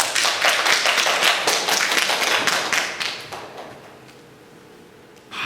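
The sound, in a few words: church congregation clapping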